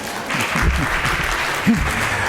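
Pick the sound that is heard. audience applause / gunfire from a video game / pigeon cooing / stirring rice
audience applause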